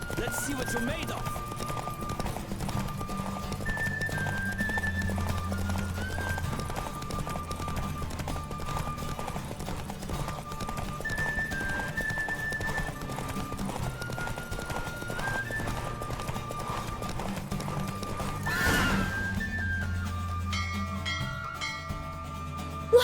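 Racing horse hooves pounding at a gallop in The Witcher 3, a steady rhythmic beat beneath music with a horse whinny and talking, ending in a brief burst of sound near the finish.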